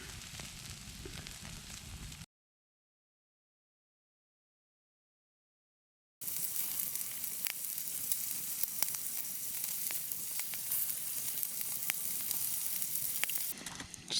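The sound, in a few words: steak frying in a pan while winter camping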